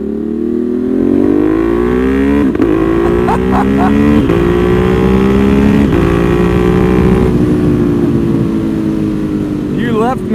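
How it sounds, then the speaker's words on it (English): Ducati Monster 1200 with carbon wheels being ridden, its loud, close engine note climbing through the revs in repeated pulls with short breaks at gear changes, a steady mechanical roar throughout. "the sound of this freaking bike never gets old"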